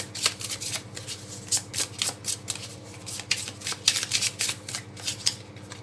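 Tarot cards shuffled by hand, a quick run of crisp riffling flutters that keeps going for several seconds, close up with no talk.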